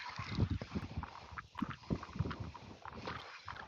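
Gusty wind buffets the microphone in uneven bursts near the water, with a ship nearby, a low rumbling roar and faint background noise.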